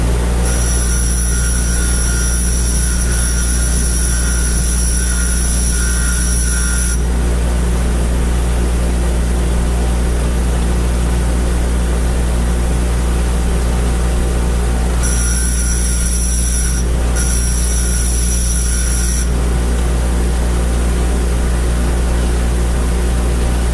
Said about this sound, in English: I use a bench grinder for doing piston rings.